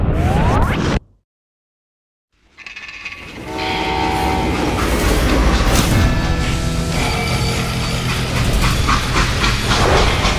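Train rolling along rails in the Western game Call of Juarez Gunslinger, a loud sustained rumble with rhythmic clatter that cuts out abruptly into silence for over a second, then swells back to a steady roar.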